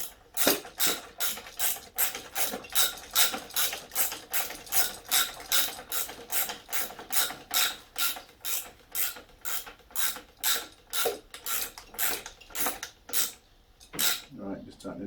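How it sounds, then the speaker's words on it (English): A hand ratchet tightening mudguard bolts on a farm motorbike clicks in a steady, rhythmic series of sharp metallic pawl bursts, one per swing, close and loud for about fourteen seconds before slowing at the end. "you're going to spanner and I'm going to ratchet"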